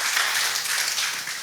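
Applause from a church conference congregation, a steady, dense wash of clapping that fills the hall evenly for the whole moment without a break.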